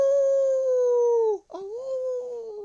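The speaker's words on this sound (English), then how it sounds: "It's a woof woof." A dog howls close and loud, holding a long wavering tone that drops and breaks off, then resumes with a second, shorter howl that wobbles and fades.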